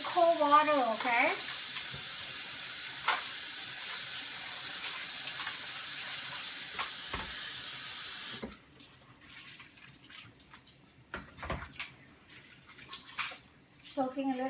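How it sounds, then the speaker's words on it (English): Cold tap water pours over noodles being rinsed in a kitchen sink for Lao pad see ew, a steady rushing hiss for about eight seconds that then stops, leaving scattered clatter and handling sounds; a voice speaks briefly at the start. "I'm gonna wash and rinse my noodles"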